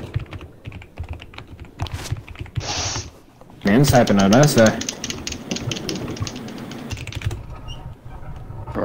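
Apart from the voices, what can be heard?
computer keyboard typing over game voice chat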